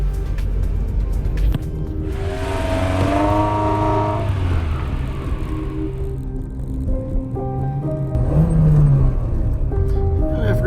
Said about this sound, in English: turned her over, and took it for a short little test drive.